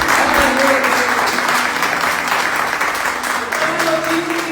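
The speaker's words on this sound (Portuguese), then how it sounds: "Será que você pode aplaudir a Jesus por isso?" A church congregation giving sustained applause during a service celebrating baptisms, a dense, loud, steady roll of many hands clapping, with faint tonal sounds beneath.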